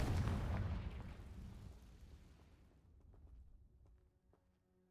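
A Confringo blasting spell from Hogwarts Legacy goes off as one loud, booming fiery blast that rumbles and slowly fades over a few seconds, leaving a quieter game ambience.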